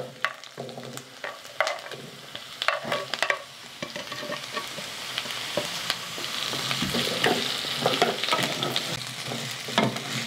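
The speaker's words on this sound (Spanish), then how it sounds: "Que le voy a dar una movidita para que quede bien toda la zanahoria." Carrots and sliced potato for steamed tacos are stirred in a pan, with repeated scraping and clacking strokes over a soft, steady sizzle that grows denser toward the end.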